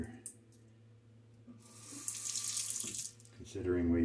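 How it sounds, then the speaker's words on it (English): Running water from a bathroom tap as a razor is rinsed, starting with faint clicks, then a steady close hiss of flowing water that swells loudest near the end. "Let me give it a little rinse here."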